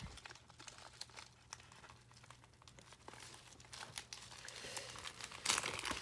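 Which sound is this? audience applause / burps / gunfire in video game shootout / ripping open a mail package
ripping open a mail package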